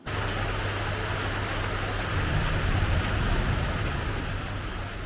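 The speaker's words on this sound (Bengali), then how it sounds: "এখন দেখছি বৃষ্টিও নেমে গেল" Rain pours down in a loud, dense wash of noise, steady throughout with a low rumbling undertone and no talking.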